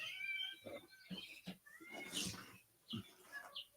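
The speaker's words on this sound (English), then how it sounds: "Who's meowing?" A cat meows several times in short, separate calls, faint and somewhat distant, with quiet gaps between them and no talking.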